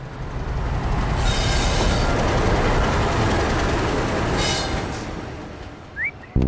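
A train rolls through a railway station with a loud, continuous rumble of wagons and bursts of high wheel squeal, fading slightly near the end before a brief whistle-like tone.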